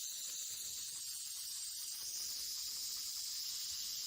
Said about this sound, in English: that is a big old fat timber rattler